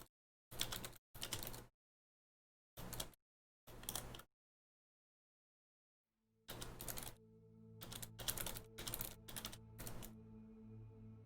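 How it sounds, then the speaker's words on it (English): Someone types a message on a computer keyboard in short separate bursts of clicking with pauses between them. A steady hum starts up behind the faster, denser typing toward the end. "let me type this out."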